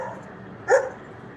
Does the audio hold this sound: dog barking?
yes